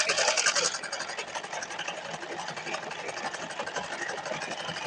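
A sewing machine runs a continuous line of stitching through the lining of a silk saree blouse, giving a steady close-up buzzing whir that is slightly louder at the start.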